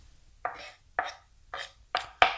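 A knife chops through tomatoes on a cutting board, making five crisp, evenly spaced strikes about half a second apart, close and clear, with no talking.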